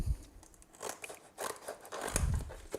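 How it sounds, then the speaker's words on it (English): Scissors snip through glitter heat transfer vinyl with its protective cover sheet, giving a run of close, crisp cutting and crinkling sounds in uneven bursts with no talking. "Let's grab my scissors"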